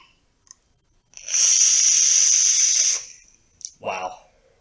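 Cheap prebuilt vape coil firing at 75 watts, producing a loud, steady sizzling hiss for about two seconds that fades out once the button is released, followed by a couple of faint pops.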